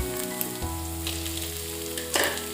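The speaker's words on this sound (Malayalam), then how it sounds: "സവാള നല്ലപോലെ വഴരണം, കിടന്ന് വഴരട്ടെ." Onions sauté steadily in a hot pan while cooking a Syrian-style tapioca and beef ribs dish, a continuous close sizzle and fry with a low hum and brief stirring bursts.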